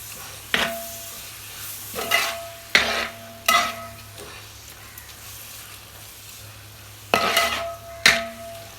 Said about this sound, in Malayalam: എന്നിട്ട് നല്ലോണം മിക്സാക്കി കൊടുക്കണം.